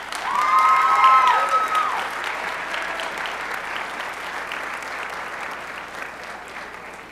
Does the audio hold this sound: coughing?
no